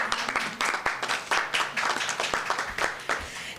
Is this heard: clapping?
yes